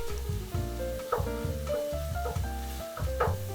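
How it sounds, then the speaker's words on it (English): Minced pork stir-fried with ginger and garlic in a hot oiled pan: a soft sizzle with repeated scraping and clinking of a spatula against the pan in an uneven rhythm, close and fairly quiet, with no talk. "Adding ginger and garlic, stir fry with the pork."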